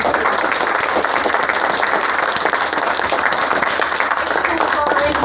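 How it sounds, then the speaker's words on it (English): Clapping from a conference audience rolls on in a thick, even stream for several seconds, many hands at once, with voices faintly mixed beneath the noise. "Give them a round of applause."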